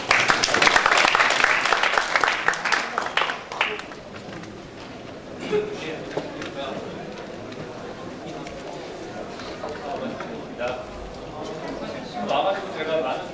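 An audience at a Korean forum on the National Pension fund management office applauds loudly at first, the clapping fading after a few seconds into murmuring and scattered claps, with speech throughout.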